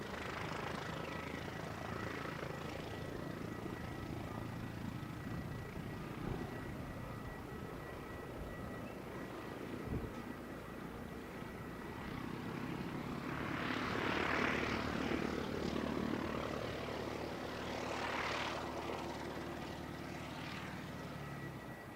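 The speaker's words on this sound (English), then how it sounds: "So this is a replay of Qantas arriving." A Qantas airliner arrives on a crosswind runway in strong winds, its distant jet engine roar building and swelling, loudest midway, then easing as it rolls on, with no voices.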